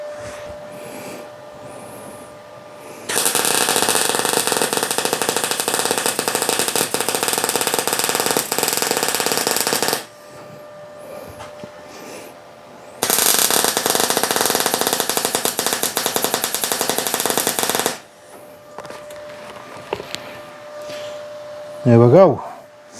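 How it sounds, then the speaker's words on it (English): Metal safety gate frame being welded in two long bursts of harsh, crackling buzz, each several seconds, loud and close, separated by quieter pauses with a faint steady hum. "Just need to get that welded up now"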